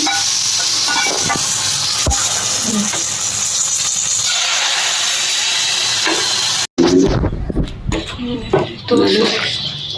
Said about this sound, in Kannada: ಇವಾಗ ನಾವು ಒಳ್ಳೆ ಹುಳಿಗೆ ಒಂದು ಸೂಪರಾಗಿರೋ ಒಗ್ಗರಣೆ ಕೊಟ್ಟು ಇದ್ದೀವಿ